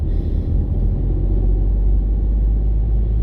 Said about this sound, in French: Je continue une accélération tranquille.